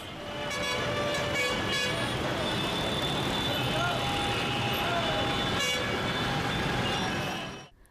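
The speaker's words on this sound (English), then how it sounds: "the repeated hooting of horns by impatient drivers assault the ears of commuters" Dense roadway traffic rumbles continuously while car horns toot repeatedly and overlap, loud and close, with a voice talking over the din.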